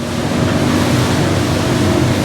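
Steady broadband rumble of an aluminium motorboat planing at about 2900 rpm on open water, engine drone blended with rushing water and wind, continuous and close.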